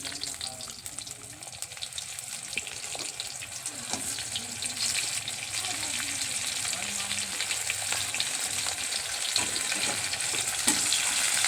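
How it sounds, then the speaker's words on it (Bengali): Onions and cardamom pods fry in hot oil, giving a close, steady sizzle that grows slightly louder over several seconds, with faint clatter and no talk. "তেল আমাদের গরম হয়ে গেছে, এখানে দুটো এলাচ দিয়ে দিচ্ছি। তারপরে এখানে আমরা পেঁয়াজ দিয়ে দেব।"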